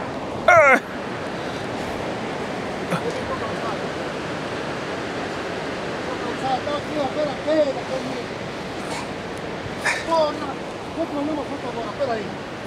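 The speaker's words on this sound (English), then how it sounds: "Just check the way the water is falling down." Steady broadband roar of a waterfall in Angola, water pouring down continuously and close by, with occasional wind buffeting and brief voices and other sounds mixed over it.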